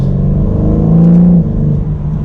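A 2021 BMW M4 Competition coupe's engine and exhaust pull hard under acceleration, a loud close drone that climbs steadily in pitch and briefly peaks before easing slightly.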